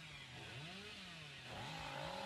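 The Hillbilly's chainsaw in Dead by Daylight Mobile revs steadily, its engine pitch swooping up and down in waves, moderately faint and without talk.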